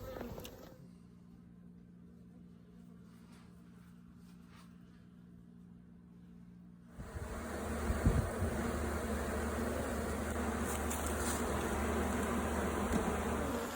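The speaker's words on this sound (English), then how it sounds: "These bees are really getting after me after I went through that box just then." Honeybees buzz around an opened hive box, a steady drone that swells louder and closer partway through, with an even insect hum filling the background and no speech.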